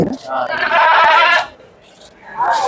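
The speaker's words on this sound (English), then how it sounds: "And this goat, you can see this one." A goat bleats at Deonar livestock market, a huge cattle and goat bazaar, with a loud wavering bleat lasting about a second close by, followed by a quieter pause and a second cry starting at the end.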